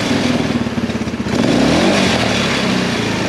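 A Tao Tao Mudhawk 200 ATV engine, freshly refurbished, revs up loudly and close by, its pulsing idle giving way to a sustained higher-pitched rev.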